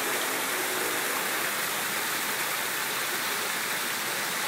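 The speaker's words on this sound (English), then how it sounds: "That one rock causes the water sheet to ricochet off." A water sheet cascading off a rock in a built tropical waterfall makes a steady, dense rushing hiss that is loud and unbroken throughout, with no voices.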